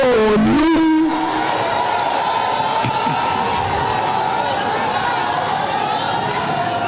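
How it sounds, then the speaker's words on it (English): A large crowd cheers and chatters for Governor Babajide Sanwo-Olu at a Southwest stakeholders dialogue in Akure, with a loud burst of applause and cheering at first that settles into a steady crowd roar. "He deserves a bigger round of applause"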